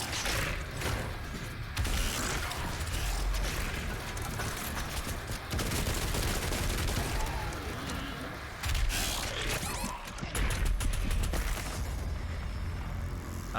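Rapid, loud gunfire blasts from the shooter game Doom come in dense repeated bursts, with mechanical clacks and whooshes between them and no talking.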